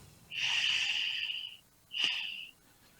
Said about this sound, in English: take a cleansing breath in through the nose and out through the nose